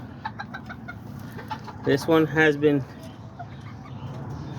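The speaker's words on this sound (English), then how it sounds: "I got this other the little rooster right here." A rooster gives a short run of clucks close by, with a brief spoken remark earlier and quiet farmyard background throughout.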